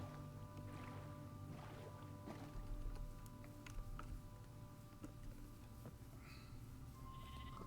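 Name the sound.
sheep bleating in Minecraft video game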